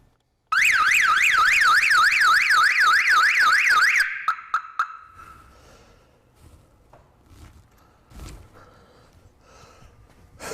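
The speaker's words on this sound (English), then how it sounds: "Got the key handy in case the alarm does go off." A 1990 Ford Mustang's loud car alarm wails in a rapid warbling tone for a few seconds, then cuts off with a couple of chirps, leaving quiet background noise.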